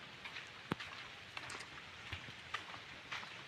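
Steady rain falls outdoors near a broken tree, a soft continuous hiss with scattered louder drops tapping on a surface, fairly quiet with no voices.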